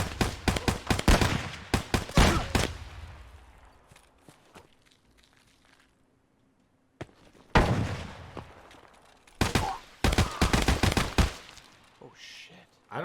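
Automatic gunfire in the video game Escape from Tarkov, with dense rapid bursts of shots, a quiet gap, then more close, loud volleys.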